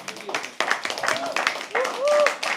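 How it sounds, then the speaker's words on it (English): Audience clapping at a live poetry open mic at The Habitat, scattered and uneven, mixed with cheering voices and crowd chatter throughout. "Keep clapping till he comes."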